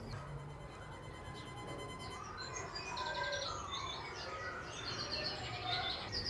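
Recorded birdsong plays through outdoor speakers in a city garden in summer: faint, scattered chirps and trills over a steady low background hum, with no voices.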